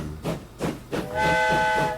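A train runs on rails in the Train Fever transport-management video game, with three rhythmic chugging pulses followed by a sustained steam whistle, loud and close with no talk.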